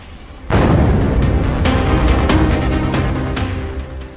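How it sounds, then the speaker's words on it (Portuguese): Airbus A320 airliner crashing into a building, a huge sudden explosion bursting in after a half-second of quiet and then rolling on as a loud, sustained roar with scattered cracks and bangs. "O Airbus A320 colide com o edifício com toda a sua força, causando uma enorme explosão."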